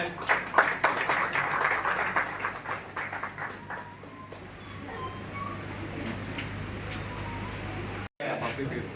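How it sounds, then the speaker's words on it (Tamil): An audience at a Tamil event applauds a guest from Singapore with dense, overlapping clapping that starts strong and then thins into a softer patter over a steady background hum. "ஒரு நல்ல கைத்தட்டு கொடுங்க"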